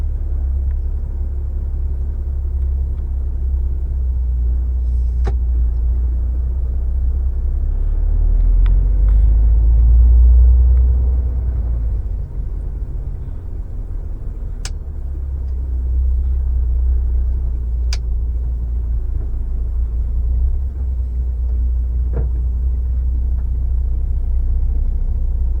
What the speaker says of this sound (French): Et le moins qu'on puisse dire, c'est qu'il y a de la circulation.